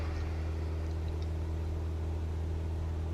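A simulated aircraft engine runs at full throttle for takeoff in Microsoft Flight Simulator, leaving Anchorage for a small snowy mountain airport; the low, steady droning hum stays constant and fairly quiet, with no talk.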